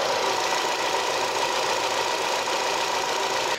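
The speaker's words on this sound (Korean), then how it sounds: "엔진 소리 아직 냉간신데 정숙했죠?" A car engine idles on a cold start with the hood open, giving a steady, even mechanical hum and light ticking heard up close and alone, with no change in pace.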